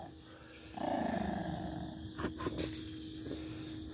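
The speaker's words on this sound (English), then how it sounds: "Now you're going to stand there and growl and bark." A dog gives a sustained low growl up close, followed by a couple of short, sharp barks or yelps, with quieter rumbling between them.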